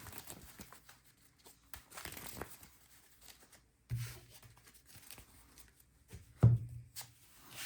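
A hand shuffles a deck of trading cards, giving quiet, intermittent papery rustles and rubs with a couple of sharper card slaps, close and alone.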